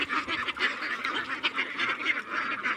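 A flock of ducks on a duck farm quacking continuously in a dense, overlapping chorus of nasal calls, steady and fairly close, with no speech.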